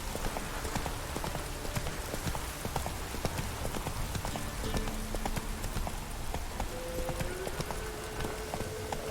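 Hooves of Roach, the horse in the video game Witcher 3, clip-clopping in a steady even rhythm at moderate distance, with a faint ambient bed and occasional quiet tones beneath.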